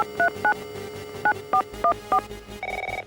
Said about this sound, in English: Okay, turning the phone on. Call Abraham Lincoln.